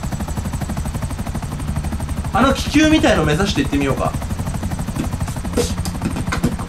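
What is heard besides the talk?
helicopter flying in video game GTA V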